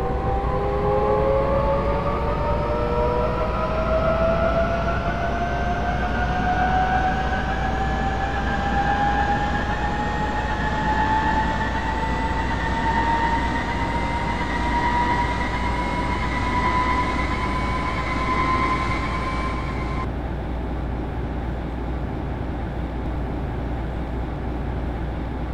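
A subway train accelerates away with a rising electric motor whine over steady rumbling wheels, loud and continuous, the whine cutting off near the end.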